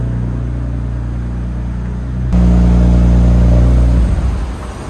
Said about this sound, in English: you gotta love that sound, that exhaust feedback